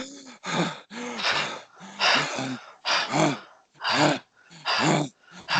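A person breathes heavily and out of breath, as if after exertion, in loud rhythmic panting. Roughly seven strong, close breaths come in steady succession, with short pauses between them.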